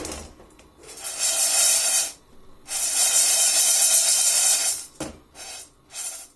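Coffee beans roasting in a pan shaken over the largest stove burner, giving long bursts of loud rasping, hissing rattle separated by brief pauses and short shakes.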